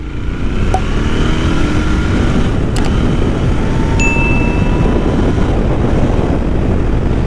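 Royal Enfield Continental GT 650 motorcycle on the move, a steady loud broadband road and engine roar with wind rush, continuous throughout with no talking.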